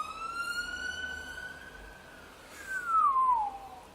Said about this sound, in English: Yeah, hear those sirens?